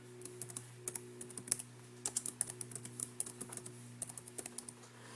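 Rapid, irregular keystrokes clatter on a computer keyboard, close and fairly quiet, with a steady low electrical hum underneath.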